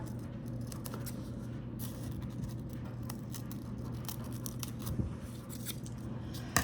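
Scissors trim paper for a craft rosette, a series of small close snips and scrapes repeating at an uneven pace, quiet and with no talking.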